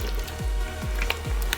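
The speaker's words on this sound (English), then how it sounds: "it is boiling." Chicken and potatoes bubble in a pot of water on the stove, a close, steady simmering hiss broken by low rhythmic bubbling pops and small crackles.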